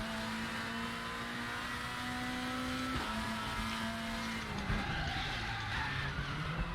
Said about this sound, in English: You're locking your front right wheel.